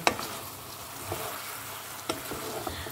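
Sauce for fried chicken feet being stirred in a pan, with a soft continuous sizzle and faint scraping strokes of the spoon at close range, no talk.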